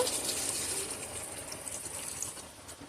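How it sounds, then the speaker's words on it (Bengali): Water pouring into a pot of country chicken curry with chui jhal and taro for boiling, a steady broadband gush that stays fairly even, then eases slightly toward the end, with no talk. "সিদ্ধ করার জন্য পানি দিয়ে দিব"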